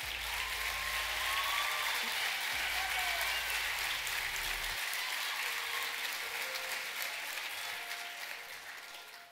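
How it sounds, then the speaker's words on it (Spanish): Applause at a school graduation ceremony, a steady wash of clapping from a large audience in a hall, sustained and gradually tapering off toward the end. "Démosles un fuerte aplauso."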